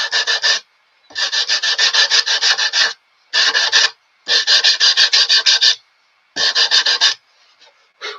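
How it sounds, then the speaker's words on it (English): Rhythmic rasping strokes of sandpaper on wood come in five quick bursts separated by short pauses, close and fairly loud. "Just a little bit of light sanding up here to kind of even things out a little bit here."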